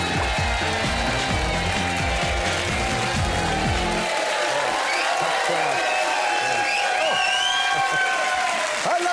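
A TV studio audience applauds and cheers loudly and continuously, a dense roar of clapping with scattered whoops and raised voices throughout, nearby and unbroken.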